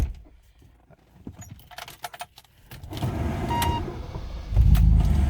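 A 1985 BMW 635CSi with a five-speed manual starts up after some quiet handling sounds; the engine catches near the three-second mark and settles into a steady, smooth idle that swells louder toward the end.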